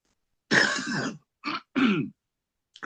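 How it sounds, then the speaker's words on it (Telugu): A man coughs and clears his throat during a church prayer meeting, making one long harsh clearing followed by two shorter coughs. The sounds are close and isolated against silence. "this little cough started, please forgive me"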